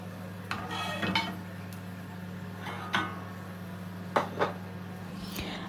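Fried fish comes out of the pan onto a plate in a home kitchen, with a few light clinks and scrapes of utensil and dish spread across a low steady hum, close and fairly soft.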